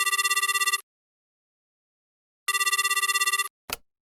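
A phone line rings out while calling Japan's immigration services agency: two long bursts of trilling electronic ring tone separated by silence, loud and clean, ending with a sharp click as the call connects.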